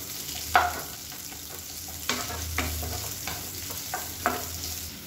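Onions, curry leaves and dried chillies frying in hot oil for a black kavuni rice idiyappam dish: a steady soft sizzle over a low hum, broken by a few sharp spoon knocks and scrapes against the pan.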